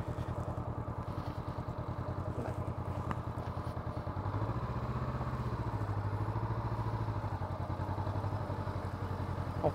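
A motorcycle idles with a steady throb and then revs up as it pulls away for a practice start on a riding-school training lot, its engine note rising and holding fairly near.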